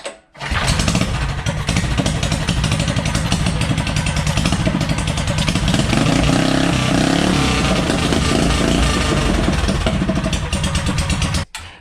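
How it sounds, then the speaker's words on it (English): A scratch-built trike powered by a Predator Ghost engine revs its rowdy exhaust continuously for about eleven seconds, a loud, close, clattering small-engine roar with no voices. "Dude, that exhaust. It's rowdy."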